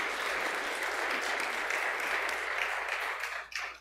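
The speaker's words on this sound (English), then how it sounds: "let us add our applause" A church congregation applauds steadily with dense, even clapping that fades out near the end.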